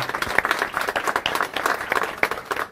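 An audience at a rabbi's lecture claps together, a lively, somewhat uneven patter of many hands with distinct individual claps standing out, steady and close throughout.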